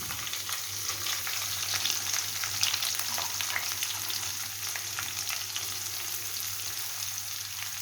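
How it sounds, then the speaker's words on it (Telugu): Chopped onions frying in a pan, a steady crackling sizzle heard close and alone throughout, with no voices. "దాని తర్వాత మనము ఆనియన్స్ వేయాలి. Chopped onions"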